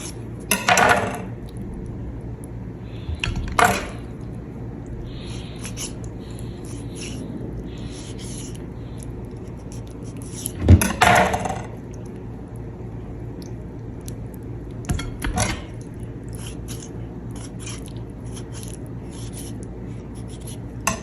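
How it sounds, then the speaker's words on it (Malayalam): A knife cuts through three large raw chicken leg pieces in a home kitchen, giving a few separate scraping and thudding chops spaced several seconds apart over a quiet background, with no voices. "ഇവിടെ എടുത്തിരിക്കുന്നത് 3 വലിയ ലെഗ് പീസുകളാണ്. നമുക്ക് അത് മുറിച്ചു കൊടുക്കാം."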